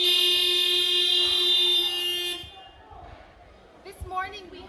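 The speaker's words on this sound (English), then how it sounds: "Let's honk in support of persons living with" A sustained, loud car horn blares steadily for a couple of seconds, then cuts off, leaving a quieter backdrop where a voice speaks and a few short toots sound at a public gathering.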